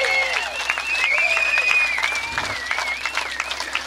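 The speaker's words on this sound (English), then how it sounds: "Give these people a round of applause." Crowd applause for a group of old military veterans at an outdoor rally, steady clapping filling the whole stretch with whistles and cheers mixed in.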